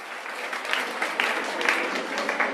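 A crowd claps at a primary school graduation ceremony, with steady, continuous applause from many hands filling the room and voices faintly mixed in.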